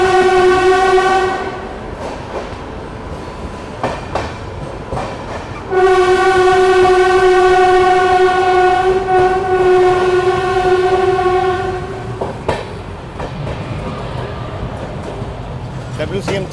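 Train horn blasting in long harmonic tones as a train runs through Diva Junction in India behind a WCM3 locomotive, with a passenger train standing alongside; loud close horn blasts over steady rumbling rail noise and clatter.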